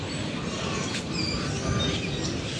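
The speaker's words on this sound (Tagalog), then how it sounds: "Ang ingay ng ibon" Birds chirp and tweet in a cemetery in Mandaue City, a steady chorus of small calls over a broad outdoor background hiss, with no speech.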